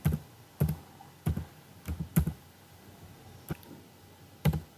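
Keys on a computer keyboard being typed, close up, in short separate clicks and a few quick pairs, spaced irregularly over quiet background with no talk.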